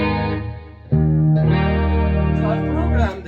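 Electric guitar played through a Roland GP100 effects unit set to a clean, chorus-laden JC120-style tone; sustained ringing chords with a fuller strum about a second in, steady and close, with no talking.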